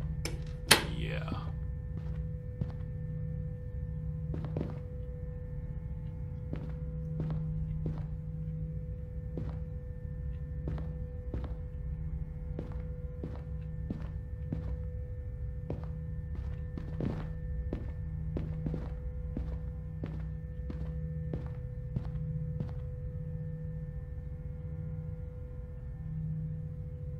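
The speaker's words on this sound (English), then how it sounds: "Sometimes I'll be hearing like extra footsteps." Footsteps in a dark house, a string of faint, evenly spaced thuds and light knocks over a low constant hum, with one sharper bump at the start.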